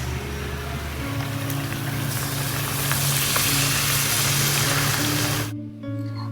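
Malpua, sweet pancakes, fry in hot oil with a dense, steady sizzle and crackle heard up close. The sizzle cuts off abruptly near the end, and no one speaks.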